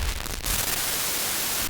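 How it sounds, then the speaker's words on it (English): Harsh, hissing digital static from JPEG-compression-distorted audio fills the whole clip, a dense broadband distortion with a brief shift in texture near the start. "So that's the sound of JPEG compression."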